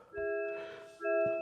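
Two separate sets of steady tonal chimes from an MG ZS EV, sounding right after the door shuts. Each is a loud layered electronic bong and the second follows about a second after the first.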